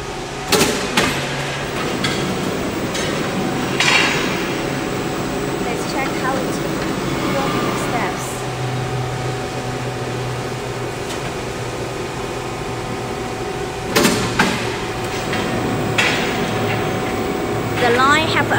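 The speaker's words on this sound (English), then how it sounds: "The line have applied for stop cutting, hydraulic stop cutting." Fire damper roll forming machine running in a factory, with hydraulic cutting and sharp clanks near the start and again around the middle, over a steady mechanical hum and background chatter.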